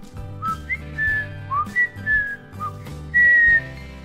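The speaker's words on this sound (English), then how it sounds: "It allows me to whistle." A person whistles a short melody of several clear, sliding notes, near and fairly loud, over a faint steady background.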